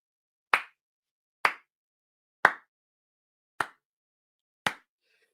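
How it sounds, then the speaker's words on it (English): A slow clap: five sharp, separate handclaps spaced about a second apart in a steady, deliberate rhythm, close and crisp against silence. "You deserve the slow clap"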